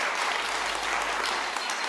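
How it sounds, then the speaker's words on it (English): Audience applause at a REflect 2023 conference, a dense, steady patter of many hands clapping that fills the short moment evenly and fairly loudly, with no voices over it. "let's give that a round of applause"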